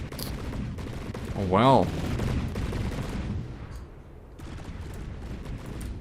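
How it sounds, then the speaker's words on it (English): Cannons fire in the naval combat game From the Depths, a dense, rumbling barrage of booms and blasts rolling on continuously, with a person briefly speaking over it partway through. "I kind of like the sound of these cannons."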